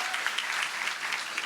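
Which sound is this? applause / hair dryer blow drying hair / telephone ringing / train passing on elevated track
applause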